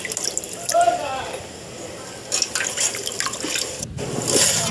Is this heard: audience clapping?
no